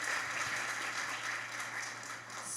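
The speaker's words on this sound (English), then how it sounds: "Yes, you can clap for that." Audience at a conference conversation event clapping, a soft, even patter of applause over a low steady hum, fairly distant and unbroken.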